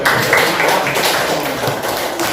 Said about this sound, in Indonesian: Ya kalau nggak tepuk tangan dulu.